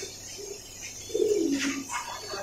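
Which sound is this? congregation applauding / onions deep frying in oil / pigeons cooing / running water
pigeons cooing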